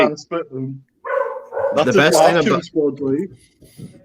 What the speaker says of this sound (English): could you hear someone's dog barking before?